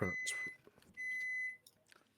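Electronic beeps sound in two sustained bursts, each about half a second long, separated by a short gap and followed by faint rustling, with a voice briefly underneath.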